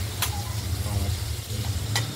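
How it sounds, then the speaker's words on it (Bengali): Cut potatoes sizzle in hot oil in a pan, a steady frying hiss with a low rumble beneath and a couple of sharp scrapes or stirs. "এইবার আলুগুলো দিয়েছি, কেটে রাখা আলু, এগুলোকে আমরা হালকা হলুদ করে ভেজে নেব।"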